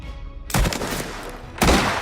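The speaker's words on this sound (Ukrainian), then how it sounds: "Саме тому ми вклали багато зусиль у звукове оформлення кожного виду зброї." Gunfire from the video game Mafia: The Old Country, recorded from real firearms: two loud, sharp shots about a second apart, each with a heavy boom and a ringing tail, alone and close.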